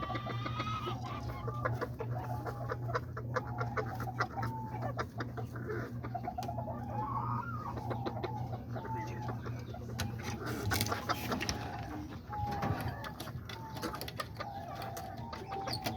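Backyard chickens, including small bantam kikiriki hens and a black Azteca rooster, cluck repeatedly at close range over a steady low hum, with scattered calls overlapping throughout.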